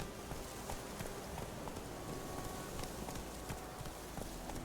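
Roach the horse gallops in The Witcher 3, a steady stream of hoofbeats running under a constant rushing wash of background noise, fairly faint and continuous throughout.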